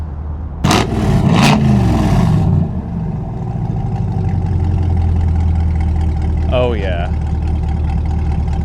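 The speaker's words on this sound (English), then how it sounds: "Man, and this Stingray sounds so good." Rumble of a C8 Corvette Stingray at a supercar gathering at a highway parking area: a loud deep idle with a brief rev early on, steady engine drone throughout, and someone speaking briefly over it.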